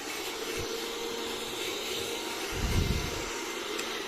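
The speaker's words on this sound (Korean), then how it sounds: "저희는 이 미니 청소기를 써요" A mini handheld vacuum cleaner sucking up plaster dust during a construction cleanup, a steady loud whirring drone that swells briefly as it pulls in debris.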